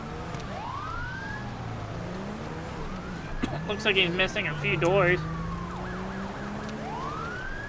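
A police car siren in the LSPDFR police video game wails in long rising and falling sweeps, then switches to a rapid yelp and warbling tones over steady engine noise, while someone talks over it.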